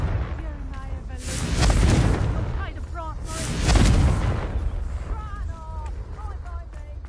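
Fiery Confringo spell blasts in Hogwarts Legacy, two heavy booming explosions about two seconds apart, each swelling and fading, with tonal magical effects and game sounds ringing between and after.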